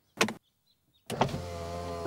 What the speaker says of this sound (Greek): Να σας κατεβάσω την οροφή